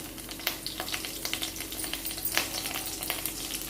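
Mustard-type tempering seeds and curry leaves frying in hot oil for a potato puri kurma, a steady close sizzle with scattered sharp pops and crackles throughout and no talk.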